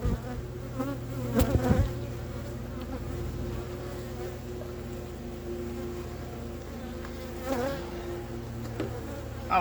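Agitated honey bees swarm and buzz at an opened hive holding brood ready to hatch, a dense close drone that swells into a louder flurry early on before settling into a steady hum.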